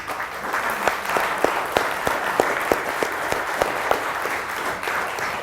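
An audience at an award show in Chitral applauds steadily, a dense wash of clapping with sharper individual claps standing out at a fairly regular pace, moderately loud and free of talk.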